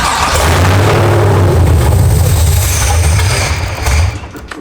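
A car engine with a gas leak cranking over and catching briefly, a loud steady churning rumble that runs for about four seconds before cutting out.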